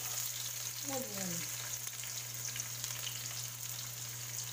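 Red onion and garlic sauté in hot oil for squid adobo, a steady broadband sizzle running throughout with a faint sliding tone briefly in the middle.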